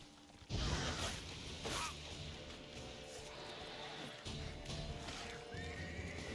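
Roach, Geralt's horse in the video game The Witcher 3: Wild Hunt, lets out a loud whinny and then trots with steady clip-clop hoofbeats, close and clear with no talking.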